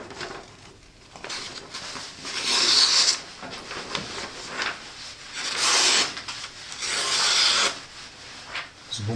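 A knife blade of 95Kh18 or N690 steel saws back and forth through rope in a cutting test, giving repeated close, loud rasping strokes with short pauses between bursts, no voices.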